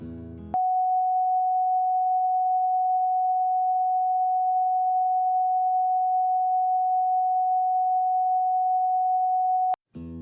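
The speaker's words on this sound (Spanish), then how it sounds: "La quinta frecuencia, Sol, 741 Hz, es la frecuencia de la intuición y la iluminación." A 741 Hz solfeggio tone for the fifth frequency, Sol, holds as a steady, pure, unwavering pitch for about nine seconds, with short bursts of other sound just before and after it.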